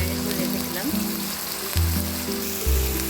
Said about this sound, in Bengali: হালকা একটু ভাজাও হচ্ছে, সাথে কষানো হচ্ছে একই সাথে